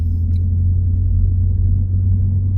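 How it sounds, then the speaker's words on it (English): A Lexus IS500 with an Apex'i N1 Extreme exhaust drones in eco mode, a steady, low exhaust rumble heard muffled from inside the moving car, with no talking. "maybe just a little bit of a rumble, just a tiny bit inside the car."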